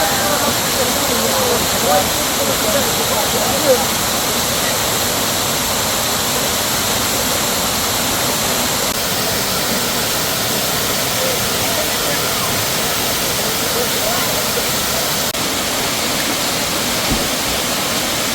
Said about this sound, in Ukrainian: особливо, якщо ви підніметесь наверх і зайдете під потоки води на верхову водоспаду